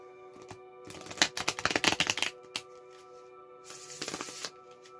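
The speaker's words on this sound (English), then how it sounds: "Now we're taking the first card from the Druidcraft Tarot, followed by an Oracle card from the Angels and Ancestors Oracle deck." Druidcraft Tarot cards being shuffled and drawn, with a dense burst of crisp riffling flutters in the middle and a second shorter riffle near the end, close and fairly quiet, no talking.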